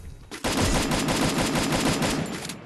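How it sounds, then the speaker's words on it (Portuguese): Rapid automatic gunfire in a video game, a loud, unbroken stream of close shots firing in quick succession for over two seconds, with no talking. "Tem muito tiro aqui no outro."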